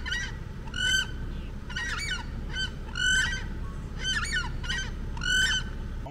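Geese honk in repeated loud bursts after landing near a road in Brazil, several calls spaced about a second apart over steady background rumble.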